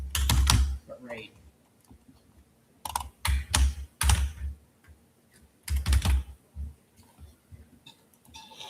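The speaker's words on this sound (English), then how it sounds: "You're still typing loud, relax." Loud typing on a computer keyboard comes in irregular bursts of clattering keystrokes, with brief pauses between runs and a little background speech.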